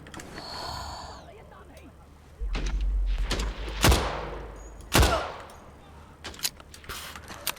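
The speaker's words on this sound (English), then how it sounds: "somebody's shooting at me from somewhere" Enemy gunfire rings out in the first-person shooter Better Than Dead: several sharp, loud shots come at irregular intervals over a low rumble, with a few quieter pops after them.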